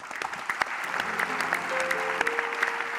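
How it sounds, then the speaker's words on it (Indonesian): A studio audience at a pre-dawn Ramadan variety show breaks into lively applause, a bright, continuous patter of many hands with a few sharper claps, while a faint held musical tone plays underneath. "tepuk tangan dulu dong"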